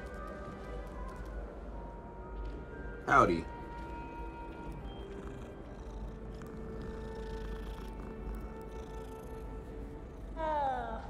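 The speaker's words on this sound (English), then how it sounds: "It's a cat." A cat in Hogwarts Legacy gives a short, sharp meow over a low, quiet game backdrop, then another meow near the end, with a brief spoken greeting in between.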